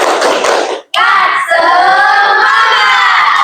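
A classroom of students performs a rhythmic clapping chant, a dense burst of hand claps and shouting young voices, then a short break and a loud, sustained group chant.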